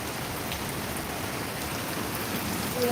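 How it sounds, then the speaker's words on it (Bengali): Rain falls steadily as a dense, even patter on surfaces, with no voices, holding constant throughout. "বৃষ্টি শেষ হয়ে না সারা রাত ধরে বৃষ্টি পড়ে"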